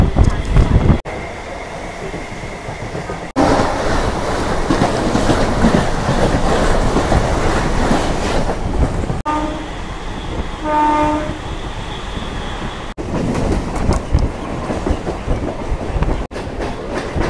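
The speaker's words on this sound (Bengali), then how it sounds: "এই ট্রেনটার নাম হচ্ছে গিয়ে শিয়ালদা শান্তিপুর লোকাল।" Horn of a Sealdah–Shantipur local train at Ranaghat station in West Bengal, sounding briefly and fairly close amid steady rumbling of train wheels and station noise.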